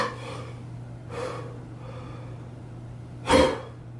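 During a kettlebell push press, sharp breaths come through a close microphone: two softer exhales early on, then a loud forceful huff near the end, over a steady low hum.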